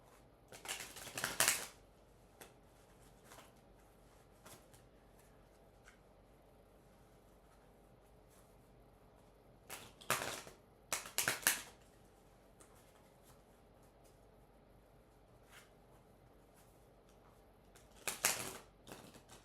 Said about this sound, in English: Keep shuffling until the universe tells me not to.